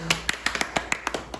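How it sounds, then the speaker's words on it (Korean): A small group at a Korean Bible doctrine camp gives a short burst of sharp, separate claps celebrating a successful recitation, about ten crisp hand claps in quick irregular rhythm. "성공 박수."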